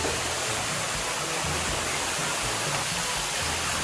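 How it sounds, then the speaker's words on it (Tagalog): Loud, steady roar of Sapot Falls, a very tall waterfall, a dense broadband rush of falling water that stays constant and close throughout with no voices over it. "narito pa po kami sa Sapot Falls at napakaganda po dito napakataas"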